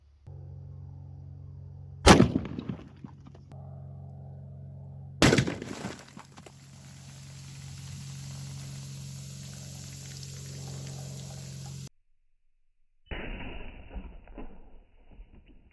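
Two loud sharp cracks from a .300 Winchester Magnum hunting rifle firing soft-tip rounds into soda, each followed by a fizzing, splashing spray, with a final burst of spraying liquid after a short silence.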